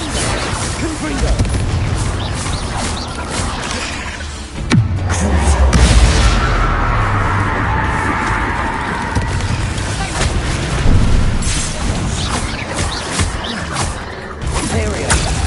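Confringo fire spell blasts in Hogwarts Legacy, a loud sudden bang followed by a rumbling, crackling burst and continued booming battle noise over several seconds.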